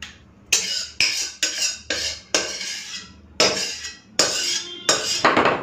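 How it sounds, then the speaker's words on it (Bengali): Pumpkin curry cooked with rohu fish head is scraped from the pan into a dish, a metal spoon giving about eight sharp, close scrapes and clanks in uneven rhythm. "কুমড়ো তরকারি পুরোপুরি রেডি, ঢেলে নিলাম"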